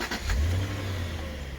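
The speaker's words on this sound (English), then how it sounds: "I'll just start the engine every single time you want to." A 2003 Jaguar XJ8 with a 4.2-litre V8 fires up and settles into a smooth, steady idle, the start a brief burst followed by an even, continuous low rumble close by.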